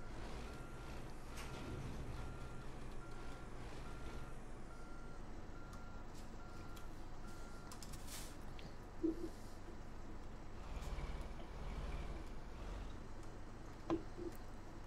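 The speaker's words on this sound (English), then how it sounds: "Oh, I love the sound of this truck." Engine rumble of a truck in American Truck Simulator, a low steady drone with reversing beeps repeating over it, a brief air brake hiss and occasional ticks, fairly quiet throughout.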